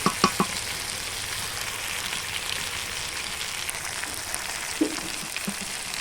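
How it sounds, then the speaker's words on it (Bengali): Meat sautéing in a pan for a slow-cooked, well-browned meat dish gives a steady close sizzle throughout, with a few faint clinks and stirring scrapes and no talk over it. "দেখো মাংসটা প্রায় এখন আমার কষানো হয়ে গেছে কালার দেখতে পাচ্ছ চেঞ্জ হয়ে গেছে তো আর একটু কষে তারপরে গরম জল দিয়ে দেবো"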